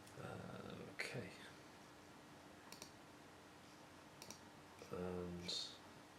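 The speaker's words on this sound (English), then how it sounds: "I clicked enter there on the keyboard, so that document's uploaded" A few sharp, isolated clicks of a computer keyboard key, including the Enter key pressed to upload a document, sparse and close against a quiet room with faint breathing and rustling.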